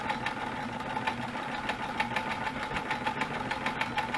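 A sewing machine stitching through a fabric junk journal cover, with a steady, fast mechanical whirr and rapid needle clatter at close range throughout.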